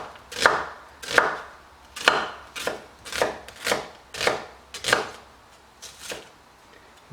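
A knife slicing an onion into strips on a cutting board, about ten crisp, evenly spaced cuts, close and clear with no talking.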